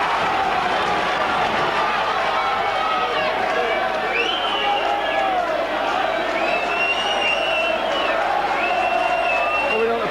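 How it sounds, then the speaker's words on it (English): A crowd at a 1997 Oldham Bears v Leeds Rhinos rugby league match sends up a continuous loud roar of cheering throughout, with whistles and shouts rising above it and a commentator talking over the top. "The crowd really up there now."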